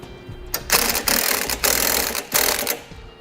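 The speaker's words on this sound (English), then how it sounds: "Now we can begin tightening the hardware on this brace." A socket wrench ratchets in several quick, loud bursts while tightening brace bolts on a Roadmaster crossbar-style base plate, using a 7/8-inch socket, with short pauses between strokes.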